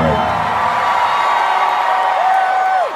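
A large concert crowd at a tour show roars and whoops continuously, loud and dense for the whole stretch.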